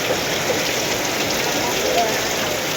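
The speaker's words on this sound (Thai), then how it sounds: "ฝนตกแถวนี้" Rain falls steadily in a rural Thai setting, a continuous close hiss of drops on surfaces with no pauses.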